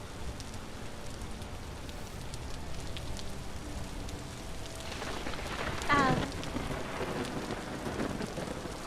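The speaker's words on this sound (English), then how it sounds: "Hearing the rain and the thunder." Steady rain falls in the Vintage Story video game, a soft continuous hiss, with a rolling rumble of thunder swelling midway and fading again, no voices over it.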